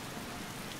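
Rain falls steadily in the video game Skyrim, an even, dense hiss of drops on surfaces that continues without a break and without talk.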